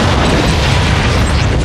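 A starship explodes in a space video game, a loud sustained roaring boom filling the whole moment without a break.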